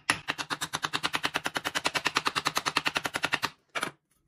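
Rapid, evenly spaced metallic strikes of a hammer against a kitchen cleaver blade, about thirty sharp close hits in quick rhythm, then a short pause and one final strike; no talking.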